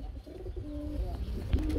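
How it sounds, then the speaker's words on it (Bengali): A pigeon at a seller's loft gives a low, soft, drawn-out coo close by, over steady background hum. "এত ডাকে কে কবুতর?"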